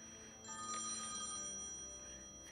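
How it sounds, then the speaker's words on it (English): An old-style telephone bell rings in the point-and-click adventure game Thimbleweed Park, a steady metallic trill that holds for about two seconds at moderate level before cutting off, with no talking over it. "Phone's ringing."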